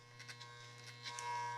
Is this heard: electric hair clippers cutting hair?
yes